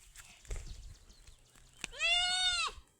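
Goat bleating while grazing on a village hillside, one clear wavering bleat rising near the end, close and loud, after soft rustling and a brief knock.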